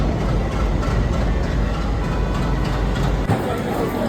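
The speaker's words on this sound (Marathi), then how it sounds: "मालगाडी बघू मालगाडी" A loud, steady low rumble of a heavy freight train rolling past nearby, continuous throughout with a brief shift near the end.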